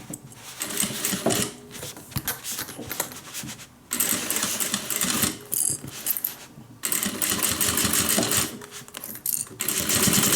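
A sewing machine runs in long bursts with brief pauses, stitching slowly along the edge of a homemade airliner cabin bag, its rapid needle chatter loud and close.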